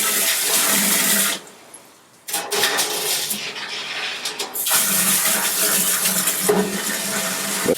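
Water being poured into a brewing pot while making deer beer, a loud splashing rush with one brief pause before the pouring resumes, heard close up.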